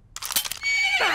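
A cartoon horse gives a loud, close whinny in an animated comedy, opening with a few rough breathy snorts and rising into a sustained shrill neigh, heard alone without talk.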